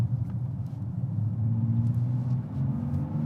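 A new Nissan Z sports car droning steadily as it drives along the Tail of the Dragon mountain road, with a low, even engine rumble and a slightly industrial tone throughout.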